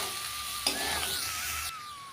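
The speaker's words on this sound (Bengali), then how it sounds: "এখন আমরা সমস্ত কিছুটাকে আবারও খুব ভালোভাবে ভেজে নেব।" Papaya and banana stem frying in a pan, a steady broad sizzle with a sharp stir or scrape partway through, close and even, no voices.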